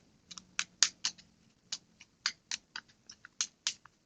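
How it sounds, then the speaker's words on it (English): A deck of cards is shuffled by hand during a solo tabletop card game, giving a quiet, close series of crisp, irregular snaps and taps with short pauses, and no voices. "You may notice this is not the most robust shuffle."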